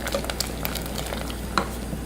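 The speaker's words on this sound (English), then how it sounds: "Just keep stirring." A pot of chicken tortellini soup being stirred over a flame, a soft steady bubbling simmer with a few light clinks and scrapes of the spoon, fairly quiet and without talk.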